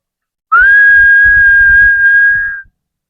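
A single sharp, steady whistle holds one bright pitch for about two seconds, loud and close, then stops abruptly.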